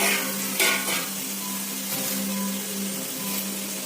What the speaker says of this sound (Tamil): வெங்காயம் சேர்த்துக்கலாம். வதங்கட்டும்.